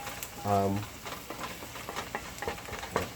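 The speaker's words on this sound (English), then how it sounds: "But my onions are already kind of cooking here." Chopped onions frying and being stirred in a pan for mesquite chicken quinoa, a steady close sizzle with scraping utensil strokes, brief hum near the start.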